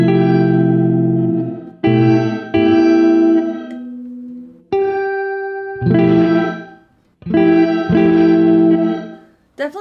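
Electric guitar run through a Catalinbread Cloak reverb and shimmer pedal, playing sustained chords in several bursts, with a faint harmonic shimmer trailing each one before short pauses.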